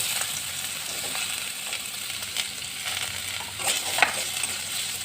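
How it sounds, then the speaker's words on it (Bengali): Diced potatoes and slit green chilies frying in oil in a pan, a steady sizzle with light scraping of stirring and a few soft utensil clicks close by, no talking. "তারপর দিয়ে দেব ডুমো করে কেটে রাখা আলু।"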